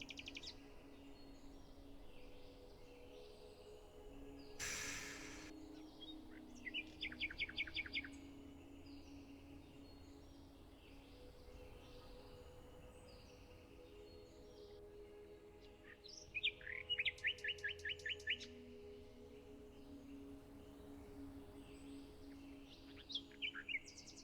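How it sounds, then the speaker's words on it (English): Birdsong near the ocean: a few short bursts of high chirps around the middle and later, fairly faint over a steady low wash of background ambience, with no talking. "listen to the birds"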